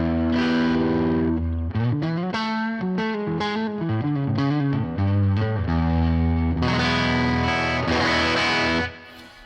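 Driven Fender-style guitar amp tone with reverb, captured in ToneX and played through a Hyde Street amp profile: a loud, sustained run of overdriven chords and single notes with a reverb tail, no talking.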